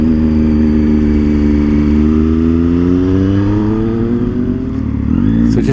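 Triumph Street Triple motorcycle engine droning loud and close while riding toward West Wycombe, pitch climbing steadily under acceleration with a brief dip before rising again, a voice faintly underneath.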